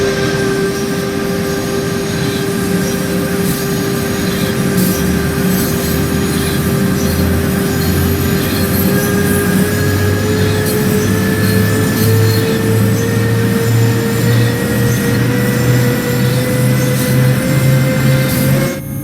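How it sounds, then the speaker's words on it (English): Electric motor whine of an MRCE BR185.5 locomotive in Train Sim World, running on the Schnellfahrstrecke Köln high-speed line: a steady, loud drone with rising tonal hums and a rolling rumble beneath, continuous throughout. "Those are certainly some cool motor sounds, in my opinion."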